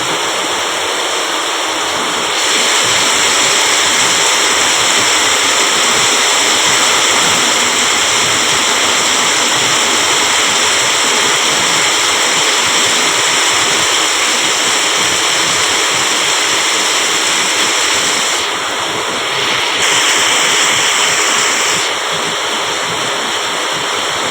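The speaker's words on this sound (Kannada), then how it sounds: "ನೋಡ್ರಿ ನೀರು ಹರಿಯಾಕತ್ತಾವ" Loud, steady rush of flowing rainwater fills the whole stretch, a continuous broadband roar with slight shifts in intensity and no voices.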